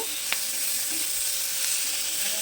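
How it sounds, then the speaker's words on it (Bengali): Coriander leaves fry in a pan with a chicken dish, producing a loud, continuous hissing sizzle heard up close and alone, with a single faint tap early on. "এবার এর মধ্যে একটু ধনে পাতাও দিয়ে দেবো দিয়ে একটু এটাকে ভেজে নেব"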